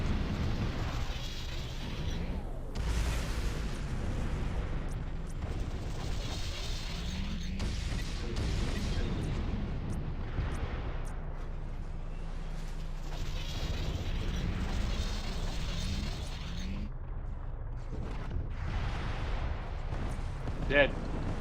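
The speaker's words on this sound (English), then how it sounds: "I'm opening fire. Hit the tank. Focus fire." Mech weapons firing on a tank in Mechwarrior Living Legends: a continuous low rumble of heavy cannon and missile impacts with mechanical whirring, booming at intervals beneath ongoing radio chatter between players.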